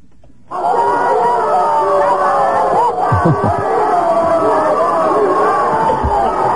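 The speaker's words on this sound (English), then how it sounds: "listen to the crowd greeting Winnie Mandela" A large crowd greeting Winnie Mandela, a dense, steady roar of many voices with cheering and wailing tones, loud and continuous after a brief quiet start, with a few low thumps midway.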